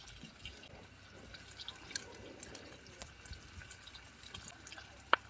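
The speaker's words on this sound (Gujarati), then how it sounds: "થોડીક વાર આ બટેકા થોડાક ધોઈ નાખીએ આપણે પાણી નાખીને" Potatoes being rinsed with poured water at a riverside night campsite, giving soft irregular drips and splashes close by, with a sharper single splash near the end and faint background hiss.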